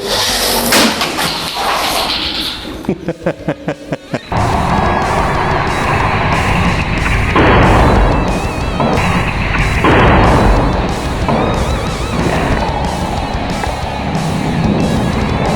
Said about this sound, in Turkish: yandan çekici vurma testi, vurdurma testi inanılmaz oldu. Araba dağıldı, bayağı bir dağıldı.